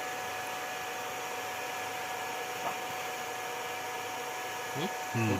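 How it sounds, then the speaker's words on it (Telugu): Fans whir with a steady, even rushing hum that persists throughout, joined by a faint voice near the end. "ఫ్యాన్లు తిరిగినాయి"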